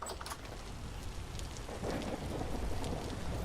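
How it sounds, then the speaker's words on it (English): A thunderstorm in the survival game Vintage Story brings heavy, steady rain with a deep rumble of thunder rolling underneath, growing slightly louder toward the end. "I definitely hear a lot of lightning."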